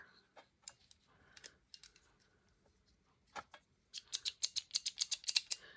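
Scissors snip and clack, first in sparse scattered cuts, then a quick rapid run of crisp blade closures near the end, close and distinct.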